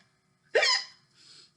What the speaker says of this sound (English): You may have noticed that I've got a terrible case of the hiccups.